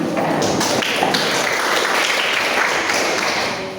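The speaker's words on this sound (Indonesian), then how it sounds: "Tepuk tangan." Audience applause during a talk, a steady, dense wash of many hands clapping at fairly close range, holding evenly for several seconds with no voices over it.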